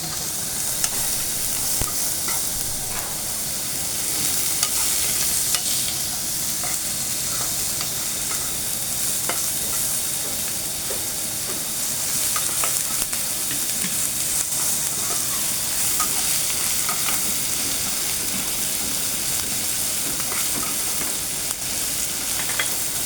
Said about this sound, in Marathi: कांदा अगदी छान ब्राऊन कलर, थोडासा ब्राऊन कलर येईपर्यंत आपल्याला भाजून घ्यायचं